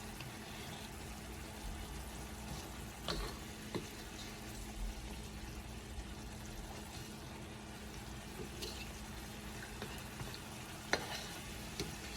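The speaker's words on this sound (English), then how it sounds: "you just keep spooning your sauce over it while it cooks" Fish pieces simmering in a curry sauce while sauce is spooned over them: a faint, steady bubbling sizzle with occasional light scrapes and clinks of the spoon, quiet and continuous, no voices.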